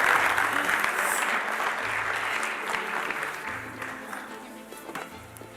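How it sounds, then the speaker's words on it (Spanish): An audience at a bitcoin summit claps in a steady burst of applause that slowly thins out, with a few voices mixed in beneath the clapping. "por favor denles un fuerte aplauso"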